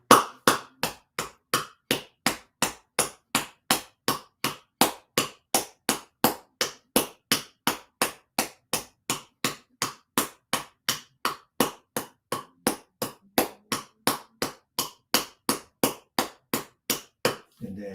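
A cupped, empty hand taps beneath the foot bone as qi therapy self-massage, about two or three firm, hollow pats per second in an even, unbroken rhythm, roughly forty-five close-up strikes with no talking.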